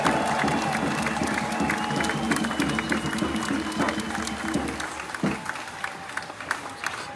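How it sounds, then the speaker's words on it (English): A rally crowd at an outdoor No Kings Day event in Hillsborough, North Carolina, breaks into loud applause and cheering, with a low steady hum under the clapping before it thins into scattered claps and murmuring. "Give yourselves a giant round of applause."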